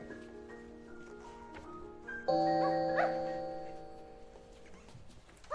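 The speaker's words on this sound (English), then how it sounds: "Who rang that bell?" A bell rung at a high-walled gate in a classic fantasy film, one bright sustained ring that rises suddenly and decays slowly over a few seconds above a quiet background.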